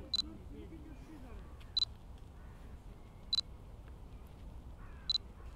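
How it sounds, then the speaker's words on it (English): A Fujifilm camera gives four short, sharp autofocus confirmation beeps, each a quick double chirp spaced roughly every one and a half seconds, heard over quiet background hiss. "There's practically no delay between pushing the button halfway and hearing the little beep."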